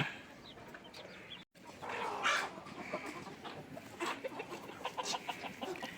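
Grown chickens raised from day-old chicks cluck and call repeatedly, several birds close by in a steady farmyard chorus with one brief dropout early on.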